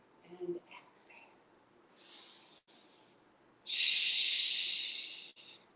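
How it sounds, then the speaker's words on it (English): Audible mouth exhales during Pilates breathing: a few soft breathy puffs, then two sustained airy exhalations, the second longer and louder, close and alone with no talking. "You'll notice I do a lot of exhaling through my mouth."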